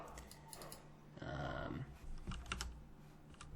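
Keys on a computer keyboard clack several times at close range, including a spacebar press, with a brief burst of handling noise midway; the taps are quiet and nobody speaks.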